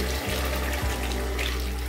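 Water poured into a pan of mushroom masala sauce made with tomato puree, a steady splashing pour heard close up with two brief dips in the flow.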